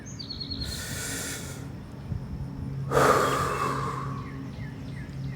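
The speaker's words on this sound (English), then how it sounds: "Take a deep breath." A person takes a deep breath: a close, breathy inhale followed a moment later by a longer, stronger exhale, with quiet pauses around them and no speech.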